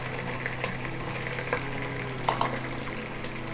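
Sliced onion frying in the oil left from browning chicken makes a soft, steady sizzle and bubbling with a few clinks from stirring, close and fairly quiet, with no voices.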